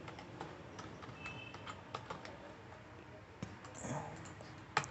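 Quiet clicking of a computer keyboard while code is entered, with sparse irregular keystrokes spread across the few seconds and a sharper click near the end.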